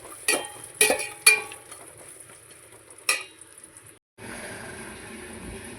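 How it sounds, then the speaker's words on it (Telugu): Cashews, with cardamom and almonds, sizzle in a pan over a steady low hiss, broken by several sharp clanks of a spoon against the pan and a brief pause before the frying resumes. "కాజు అన్నీ వేసుకొని ఎర్రగా వేయించుకోవాలి."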